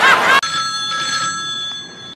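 A mobile phone rings with a sharp electronic tone that sounds loud at first, then settles into a steady, ringing tone that lingers and slowly fades, with no one talking.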